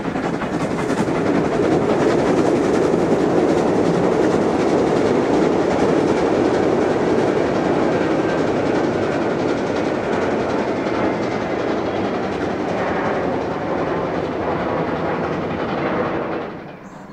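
Prussian P8 steam engine 38 2267 rolls on beyond Kettwig station toward the reservoir on a summer festival shuttle, a loud sustained roar of wheels and rail clatter that holds steady before easing off at the end.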